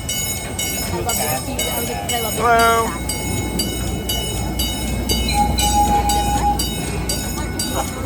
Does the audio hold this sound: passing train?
yes